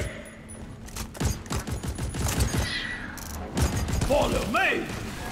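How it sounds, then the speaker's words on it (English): A weapon being reloaded in the sci-fi mining shooter Deep Rock Galactic during a solo Engineer elite deep dive, with mechanical clicks and thumps amid steady gunfire and battle noise, under a shouted voice. "Reloading!"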